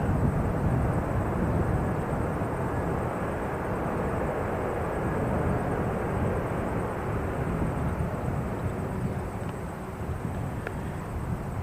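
Broadband roar of an Air New Zealand airliner, flight 541 from Auckland, at Christchurch airport, a steady sustained jet rumble with some wind noise holding evenly throughout with no voices.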